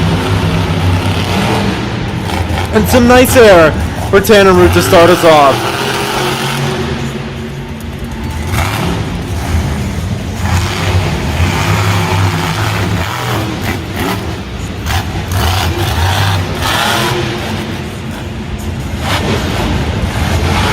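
The Red Baron monster truck, driven by Tanner Root at Monster Jam San Antonio 2019, roars through loud surging revs and booming acceleration for the whole stretch, with a commentator briefly talking over it.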